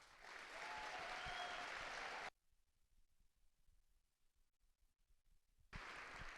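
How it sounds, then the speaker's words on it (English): Audience applause for the host of Central College's Dutchies 2024 awards show, a dense burst of clapping for about two seconds that cuts off abruptly, followed by near silence before a second short burst at the end. "could we please give him a round of applause?"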